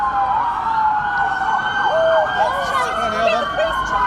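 Several emergency-vehicle sirens wail and sweep through the streets of London's East End, loud and close, overlapping as they pass, with traffic rumble underneath.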